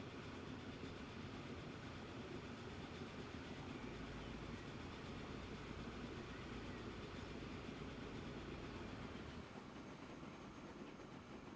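A train from Transport Fever 2 rolls steadily into the city of Mega City 1, a continuous loud mechanical rumble with faint rail clatter, easing slightly near the end.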